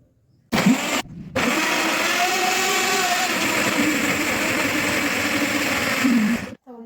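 A Sokany 666 eight-speed blender grinds carrots, starting abruptly, cutting out briefly, then running as a steady, loud whirring drone close by before switching off.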